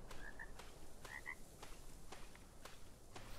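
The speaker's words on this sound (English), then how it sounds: "Is there a freaking frog?" Frogs croak in a swamp in the video game ARK, two short bursts of paired croaks early on over a low ambient bed with faint clicks, no talking.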